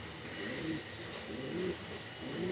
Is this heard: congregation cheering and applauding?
no